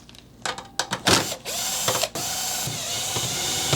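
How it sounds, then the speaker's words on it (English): Screws being removed from the back of a Synology DS1813+ NAS, a few quick ratcheting clicks followed by a steady mechanical whir of a driver, close and fairly quiet. "we're going to start by removing these screws on the back"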